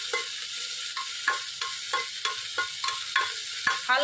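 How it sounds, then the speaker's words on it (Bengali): Ingredients sizzle in ghee in a pan for baby khichuri while a spoon stirs them, giving a steady frying hiss broken by regular scraping strokes about every third of a second, close up with no talking. "তার জন্য আমি এখানে ঘি দিয়ে ভেজে নিচ্ছি"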